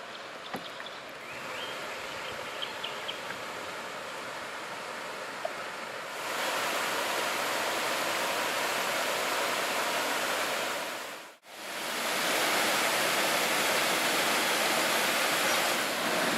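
A waterfall pours near a canoe on a river, making a steady, loud broadband roar that fills the whole clip with only a brief dip near the middle.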